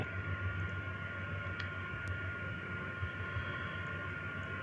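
A rocket engine at full throttle in Kerbal Space Program gives a steady, loud, broadband roar that holds unbroken the whole time, with no voices over it.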